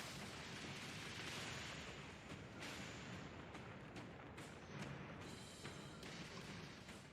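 Spaceship weapons firing in a Starfield space battle: a sustained, loud barrage of booming, crackling shots and blasts that continues steadily throughout with no clear pauses.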